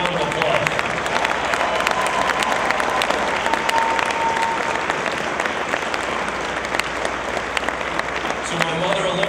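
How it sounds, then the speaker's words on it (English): Dense, sustained applause fills an honors dinner as two tables of guests stand to be recognized, a loud steady roar of many hands with crowd murmur and occasional cheers underneath. "Now let's give them a round of applause."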